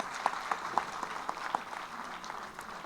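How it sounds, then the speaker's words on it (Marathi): Applause from an audience at a book-release ceremony honouring a man's 75th birthday, heard as a steady patter of clapping with a few sharper claps standing out, moderately loud and fairly close, with no talk. "जोरदार टाळ्या होऊन जाऊ देत."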